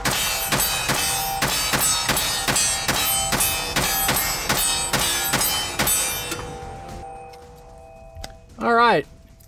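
A Kimber 2K11 Pro Comp compensated pistol fired at night: about a dozen sharp, loud reports in a steady, rapid string over six seconds, followed by quiet and a brief voice.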